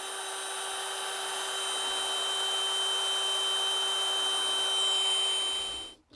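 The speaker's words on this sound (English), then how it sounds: "Seems to run the drill motor no problem." A DeWalt cordless drill motor on a VANON replacement battery whines at a steady high pitch for several seconds, then winds down and stops near the end.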